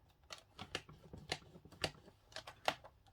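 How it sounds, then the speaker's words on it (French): Card stock being scored along fold lines for a handmade card, giving a series of small dry scraping strokes in irregular rhythm, close and quiet, with no talking. "On marque le pli à 5"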